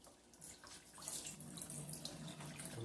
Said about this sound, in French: on fait ça avec de l'eau froide. On rince comme ça.